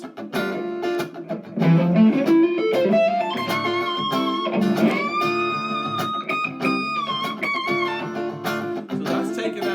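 Guitar notes ring out one after another in a flowing arpeggio run that climbs higher, clear and fairly loud, with no voices.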